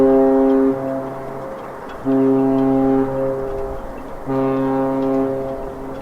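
Three long, deep blasts from a cruise ship's horn signalling it is reversing out of port, loud and close, each a sustained tonal honk separated by short gaps.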